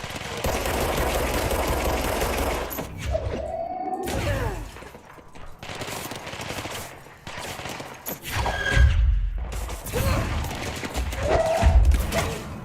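Rapid bursts of gunfire in the video game Control rattle on and off, punctuated by a few deep, heavy cannon booms.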